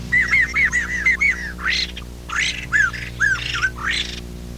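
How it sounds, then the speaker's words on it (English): Two birds trade loud, squawky calls in rapid alternation, one voice rising in ringing arcs while the other answers with harsher bursts, forming a single interwoven song. "That's the song sung by both birds."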